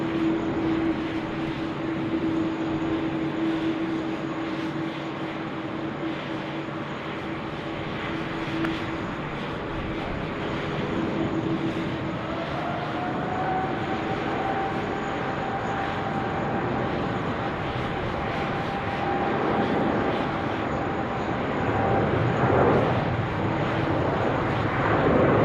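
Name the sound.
Emirates airliner taking off from runway 16 right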